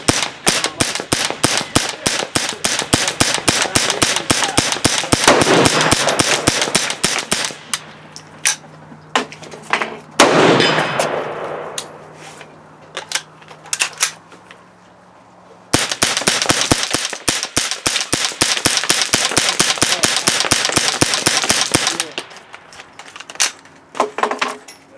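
A semi-automatic rifle fitted with a CMMG .22 LR conversion kit fires long rapid strings of sharp shots, pausing for a quieter stretch before another fast burst.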